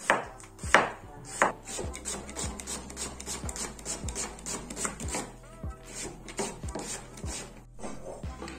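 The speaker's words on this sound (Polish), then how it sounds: "następnie na takie mniejsze kawałki i kroję" A knife chops zucchini into small pieces on a board, making a steady run of close, crisp taps at a brisk, even rhythm, a few louder hits at the start, with no talking.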